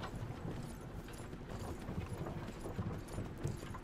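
A horse pulls a cart in the video game Myth of Empires, its hooves clip-clopping in a steady, quiet rhythm over a constant low rumble of wheels.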